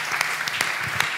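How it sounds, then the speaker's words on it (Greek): Audience at a Greek book presentation applauding steadily, a dense wash of many hands clapping indoors with a few sharper individual claps standing out, no speech. "Εδώ χειροκροτάμε τώρα, τελείωσα."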